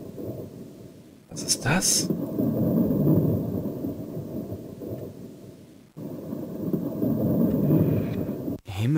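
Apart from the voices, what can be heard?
thunderstorm in a video game (Erben der Erde, Amiga CD)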